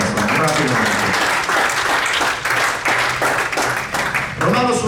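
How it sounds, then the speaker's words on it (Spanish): Congregation applauding in a church, steady sustained clapping filling the room with a few voices mixed in, loud and continuous throughout. "Un aplauso al Señor con todo su corazón."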